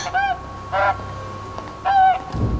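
Cartoon geese give three distinct nasal honks with short gaps between them, loud and close, followed by a low thump.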